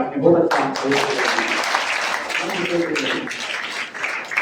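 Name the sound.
audience applause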